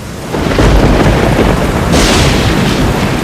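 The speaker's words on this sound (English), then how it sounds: "Thunder and lightning, accompanied by heavy rain" Thunder in heavy weather, a loud rolling rumble that builds after a brief quiet start and keeps growling, with a harsher surge of crackling noise about two seconds in, and no voices.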